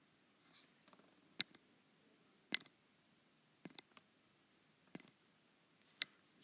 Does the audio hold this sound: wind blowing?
no